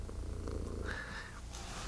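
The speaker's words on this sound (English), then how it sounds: "If you wonder why you hear a loud purring sound, that's because this cat is basically breathing into the microphone right now" A cat purring right up against the microphone makes a loud, close, continuous rumbling purr that fills the whole stretch, with no talking.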